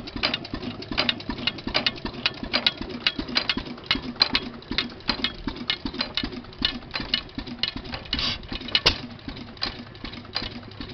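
An antique hit-and-miss engine with a governor like a headless Fairbanks runs at an outdoor engine show, giving a rapid, steady ticking and chuffing rhythm with light mechanical clatter, moderately close and without speech.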